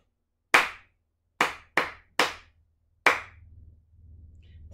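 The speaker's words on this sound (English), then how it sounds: "Let's clap that rhythm that Hamilton just played." Hands clap out a short rhythm of five sharp, close claps in an uneven pattern with a gap before the last, followed by a faint low background hum.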